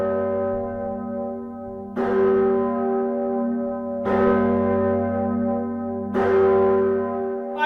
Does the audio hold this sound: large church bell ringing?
yes